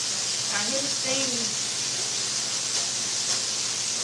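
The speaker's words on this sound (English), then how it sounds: "I hear the steam" Steam hisses steadily from a canner during food canning, a constant broad hiss filling the scene, with a brief faint voice near the start.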